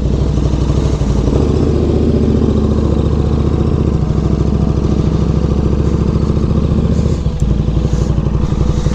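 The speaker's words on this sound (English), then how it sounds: "starting that bike up for the first time" A motorcycle engine, running for the first time after winter storage, idles loud and close with a steady rapid thumping rhythm that holds throughout, with a slight dip near the end; no talking.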